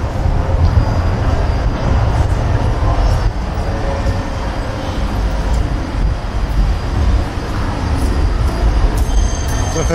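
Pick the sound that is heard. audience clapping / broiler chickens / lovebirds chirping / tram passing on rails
tram passing on rails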